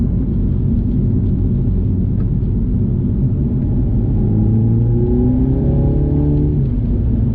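A MINI John Cooper Works GP3 engine rumbles steadily and then rises in pitch as it accelerates hard, the revs climbing through the second half.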